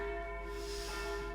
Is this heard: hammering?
no